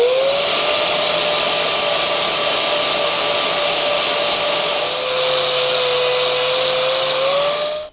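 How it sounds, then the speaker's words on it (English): An angle grinder with a flap disc cleans metal before welding, a loud, steady high whine that holds for several seconds, its pitch dipping slightly under load before it cuts off. "I like using a flap disc. It doesn't dig out the metal quite as much as the grinder disc does"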